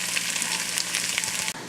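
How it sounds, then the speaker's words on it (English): Hash frying in a pan sizzles loudly and steadily with crackling pops, close and continuous with no talk. "While I'm waiting for the hash to sizzle up"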